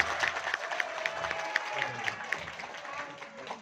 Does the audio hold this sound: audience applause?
yes